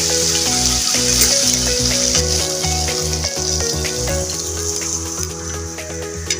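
Water poured into chicken mince and lati frying in a pan brings a bubbling, watery sizzle that continues beneath background music, fairly loud and close.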